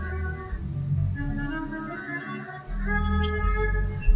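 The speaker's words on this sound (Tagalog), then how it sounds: "Grabe yung mga pusa sa mall" Cats meow in a mall, faint and fairly distant, with several drawn-out tonal cries spread across a few seconds over a soft indoor background.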